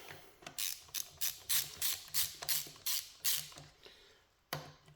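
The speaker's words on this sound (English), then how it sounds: "I use the old impact with a quick zap just to get these all loosened off" An impact wrench loosening bolts on a pump in a rapid run of about ten short, loud rattling bursts, then a pause and one final burst, close by.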